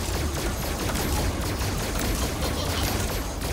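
Dense, continuous gunfire in Five Nights at Freddy's: Help Wanted, with loud rapid shots blending into a steady roar and no talk.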